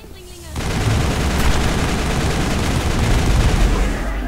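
Gunfire in the Mass Effect video game: sustained, dense bursts of automatic weapon fire start abruptly and hammer on loudly without pause.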